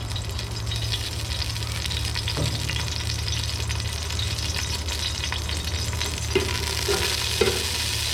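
Oil sizzling in a pan while dum biryani is prepared, a steady close frying hiss with a low hum underneath and a few faint clinks of utensils.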